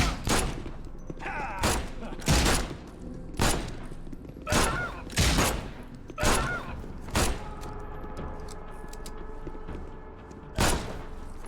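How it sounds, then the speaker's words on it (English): Several heavy gunshots in The Sinking City ring out in a loose, irregular volley, some spaced and some in quick pairs, with a final shot after a pause, each a loud sharp crack over a dim ambient bed. "Why did they just fire on me?"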